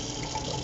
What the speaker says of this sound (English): actually we're gonna rinse them.